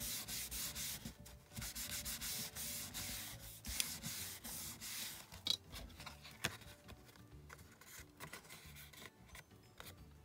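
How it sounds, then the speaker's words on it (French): Paper is rubbed by hand to spread glue while making a pop-up cube card, giving a close, steady dry scraping and swishing that repeats in short strokes, with a few light taps. "Et je frotte pour bien répartir la colle."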